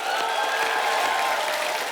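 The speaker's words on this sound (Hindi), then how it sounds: "जोरदार तालियां हो जाए।" Loud, steady applause from a studio audience at a televised comedy show, a dense continuous clatter of clapping filling the whole moment without any talk.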